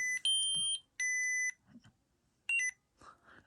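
A Proffie lightsaber's volume control gives three short, sharp electronic beeps, close and fairly quiet, separated by brief pauses with faint handling noise between them.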